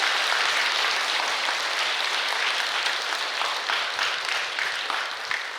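Sustained applause from an audience at a Buddhist ceremony for taking the Three Refuges and Five Precepts, dense and steady from start to finish with no talk over it.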